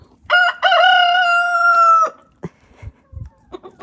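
A rooster from a backyard flock of Americana and Brahma chickens crows once, loud and close, in a long drawn-out call, followed by a few soft clucks and scratchy farmyard noises.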